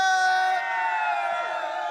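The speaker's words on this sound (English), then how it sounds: "So big cheer for everybody!" A crowd at an MMA fight event cheering and whooping, a loud burst of massed voices that holds briefly and then eases off slightly.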